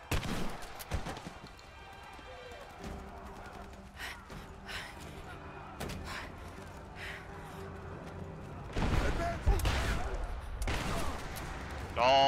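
Gunfire in Rise of the Tomb Raider, sporadic sharp shots and bursts scattered through the clip amid game music and effects, with characters speaking and gasping at times.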